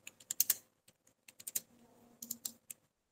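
Typing on a computer keyboard while entering data into Tally accounting software: short clusters of crisp, close key clicks with brief pauses between them, and a quiet murmur of background noise in the gaps.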